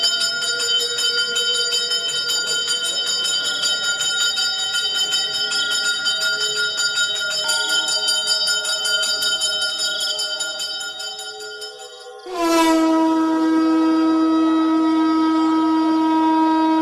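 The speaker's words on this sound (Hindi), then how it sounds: "घंटियां खुद ब खुद बजने लगती हैं।" Temple bells ringing on their own in a Hindi horror tale, a sustained, loud metallic chiming that swells and dips before a fresh bright strike rings out and lingers to the end.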